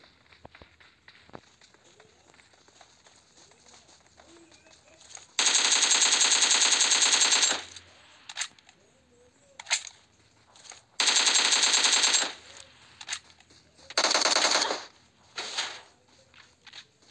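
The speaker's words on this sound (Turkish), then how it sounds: "o tarafta biraz iyi bir çatışma var aslında" A firefight in the video game PUBG: bursts of automatic gunfire, loud and sustained, separated by quieter stretches with footsteps and a few short shots.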